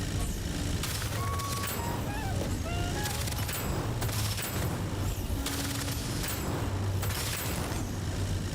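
Minigun fire in the shooter game Deadzone: Rogue roars continuously and loudly, with booming impacts and explosions layered over sustained rapid gunfire.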